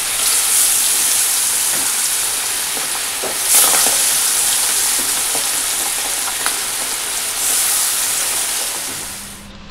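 Three fish sizzle in a hot pan of oil in a Bengali home kitchen, giving a loud, continuous, close frying hiss with a few brief bursts of sharper spitting.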